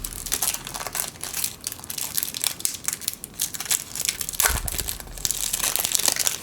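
Plastic wrapping on a Jumpstart 2022 trading card box is cut and torn open, giving close, loud crinkling and crushing with irregular bursts throughout.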